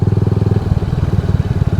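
A motorcycle exhaust rumbles loudly up close with a steady, pulsing idle that briefly shifts rhythm midway, heard on a ride to a bike festival.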